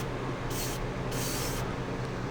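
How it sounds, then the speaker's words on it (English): An airbrush running at 25 psi sprays gloss enamel paint onto a 1/144 Gundam OZ-06MS Leo model kit in two short hissing bursts over a steady background hum, close and with no talking. "Just spray that till it's all covered and looks good."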